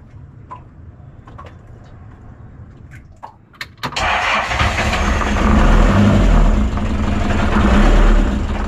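A boat engine cranks to life out on rough, choppy water after a few seconds of faint chirps and clicks, then settles into a loud, steady low roar that dominates to the end, with no voices.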